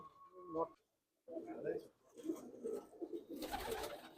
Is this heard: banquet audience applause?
no